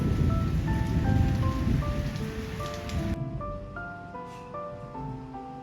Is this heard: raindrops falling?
yes